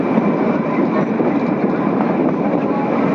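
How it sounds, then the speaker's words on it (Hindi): The Kalka–Shimla toy train runs along the mountain railway, a loud, steady rumble and rattle heard from inside the carriage without a break. "लहराती हुई बल खाती हुई हमारी ट्रेन आगे की तरफ बढ़ते हुए"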